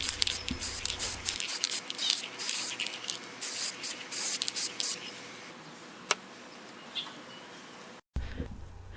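A spray paint can hisses onto a canvas in repeated short bursts of varying length, close and crisp, thinning to a few isolated sprays before a final burst.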